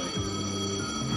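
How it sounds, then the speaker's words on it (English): A bell rings steadily on a fishing-themed betting terminal slot game, a bright sustained ringing that fills the whole moment at close range. "It's bell ringing."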